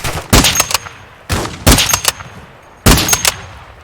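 Three loud, close sniper rifle shots with explosive rounds in the DMZ video game, each sharp crack followed by a short burst of rattling impacts and echo, spaced about 1.3 seconds apart with no talk.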